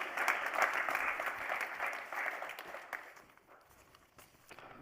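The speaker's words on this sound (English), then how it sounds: "Can we give him a round of applause, please," Conference audience applauding after a chief executive is introduced at an electricity market design event, a dense wash of clapping that swells early and then thins out toward the end.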